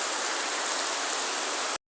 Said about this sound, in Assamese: আজি কেনে ধাৰাসাৰ বৰষুণ দিছে চাওক